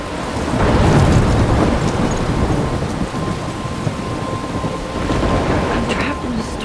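A thunderstorm in the video game Life is Strange gives heavy, continuous rain noise with deep rumbling thunder swelling loud near the start and again toward the end, steady and enveloping throughout.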